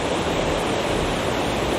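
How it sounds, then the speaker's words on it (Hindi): Parvati river rushing below a footbridge near Manikaran in Kullu, a steady, loud broadband roar of flowing water with no break. "ये जो रिवर है नीचे, ये शायद है पार्वती नदी"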